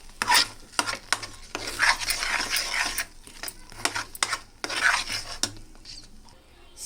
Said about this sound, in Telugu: ఇప్పుడు బెల్లం కరిగి దగ్గరకు వచ్చినాక ఇట్లా కలుపుకుంటూ ఉండాలండి